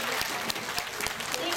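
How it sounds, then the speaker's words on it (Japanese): An audience claps for Tongan dancers at an outdoor festival, a brief burst of steady, moderately distant applause. "大きな拍手をお送りください"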